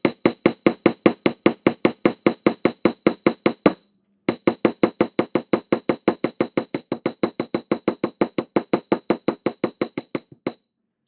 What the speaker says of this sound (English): I'm going to make a straight line across with hammering and then go down.